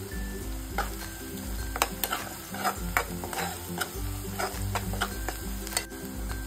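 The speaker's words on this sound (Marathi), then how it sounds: "कांदा हलका असा परतून झाला ना, गोल्डन ब्राऊन झाला की त्यामध्ये आपल्याला कढीपत्त्याची पानं टाकायची आहेत" Onions and curry leaves sizzling in a pan under repeated scraping and stirring strokes, with a low steady hum running underneath.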